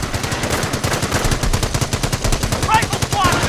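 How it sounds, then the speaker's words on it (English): Rapid machine-gun and rifle fire rattles continuously in the Company of Heroes World War II strategy game, dense repeated bursts at close range with a few brief higher tones near the end, no voices over it. "Rifle squad, taking fire!"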